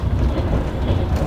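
A steady, loud rumble fills the inside of a Moscow–Syktyvkar passenger train as it runs, with low rolling wheel noise and no talking.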